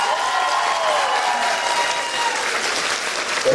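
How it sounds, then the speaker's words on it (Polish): Loud, sustained applause from a crowded indoor audience at a Women's Day celebration in a community cultural centre, steady throughout with a brief swell near the end. "Jeszcze raz, na rozgrzewkę, ogromna brawa na Zenka może, co?"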